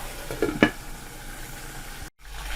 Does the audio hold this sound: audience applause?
no